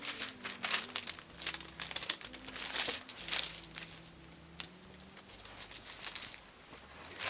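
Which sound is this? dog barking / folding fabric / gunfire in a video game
folding fabric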